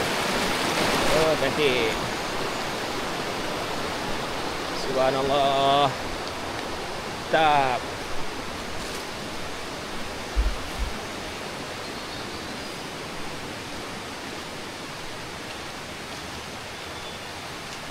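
A river flows beneath a bridge on a mountain trail in a steady, broad rushing wash that stays constant throughout, while a few short bursts of nearby speech break in over it.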